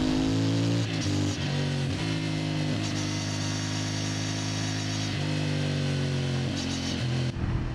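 A CF Moto MT450 motorcycle is ridden through corners, its engine a steady, close buzzing drone whose pitch rises and falls with the throttle for nearly eight seconds, with no talk.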